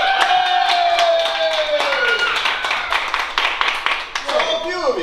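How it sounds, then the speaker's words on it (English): Theater audience at an improv show breaks into loud, dense applause with cheering and screams, a sustained burst of clapping and whoops filling the whole stretch, with a few shouted voices rising near the end. "by an uproarious round of applause and screaming"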